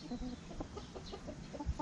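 Soft, low clucking from farm hens, a few short calls scattered over a quiet background.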